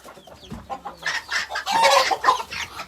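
Chickens and roosters on a home poultry farm cluck in a busy flock, with repeated close clucks and squawks building louder toward the end, no talk.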